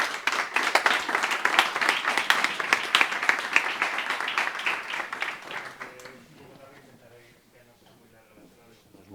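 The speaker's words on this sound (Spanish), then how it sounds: "Antonio Turiel, vamos a darle un fuerte aplauso." An audience at a talk on the planet's limits gives strong applause, dense clapping that holds for about six seconds and then dies away into quiet room noise with a few scattered claps.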